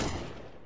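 Rapid gunfire from the video game Counter-Strike during a professional esports match, a short dense burst that fades quickly with no voices on top.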